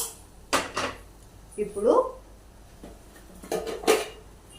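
A pan is set down on a gas stove in a home kitchen, giving a few sharp metallic clanks and knocks with pauses between them, while someone talks.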